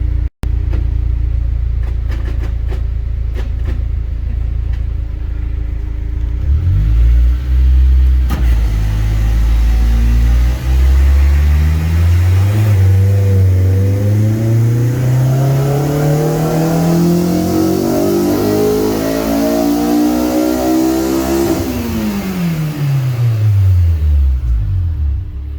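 A Honda S2000 on a dyno in a hot, heat-soaked shop winds up from a low rumble through a long rising rev into VTEC, loud and close, then drops back off at the top.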